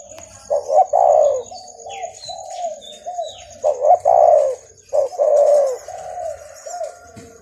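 Several trained doves coo in rounded, repeated phrases, loud and close, with quieter chirps and a faint steady high tone running underneath; no one speaks.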